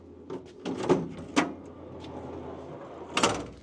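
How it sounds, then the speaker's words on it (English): Drawer in a 1990s Land Rover Defender 110 camper conversion sliding back in on its roller, giving a few close knocks and rolling thuds spaced over a few seconds, ending in a sharper bump as it seats. "getting the drawer, lining it up with the roller, sliding it back in"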